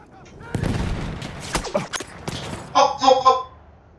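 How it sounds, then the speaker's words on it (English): Machine gun fire and explosions crackle in Battlefield 1 gameplay, with bursts of shots and thuds over a few seconds while a player talks over the action. "Machine gun."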